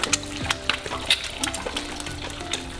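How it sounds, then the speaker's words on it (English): Thai fried eggs spit and crackle in a pan of hot oil, with a steady close sizzle and sharp popping bursts. "I'm gonna fry them until it's getting brown on the outside, on the edge."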